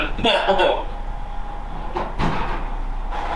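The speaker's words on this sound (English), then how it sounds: "close that door" A door in a car workshop is shut, giving a couple of knocks and a thud, with people talking nearby and general room noise throughout.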